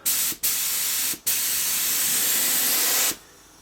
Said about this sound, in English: spray just air out of it to dry any of the water that's inside and clear the nozzles